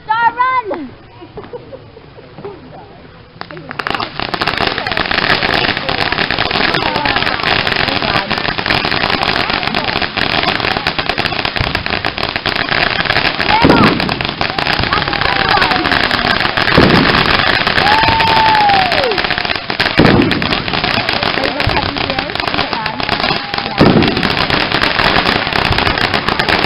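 Fireworks set off outdoors, with a steady crackling barrage after a brief quiet start and a few sharper bursts and whistles, while voices talk over it.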